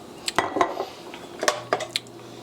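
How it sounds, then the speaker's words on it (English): Metal pans and cookware clatter in a kitchen as an olive-oil skillet goes onto the stove, a handful of sharp knocks and scrapes in two short clusters, close and moderately loud with no talking. "put on a skillet"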